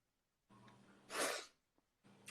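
A person gives one sharp, breathy snort, loud and close, bracketed by a low steady background hum before and after.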